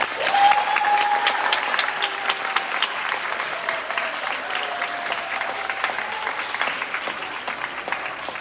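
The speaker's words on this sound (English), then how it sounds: "Can we give everyone another round of applause?" Audience at a sustainability fashion show giving a round of applause, loud close clapping that peaks early then settles into a steady patter, with faint whoops or cheers mixed in.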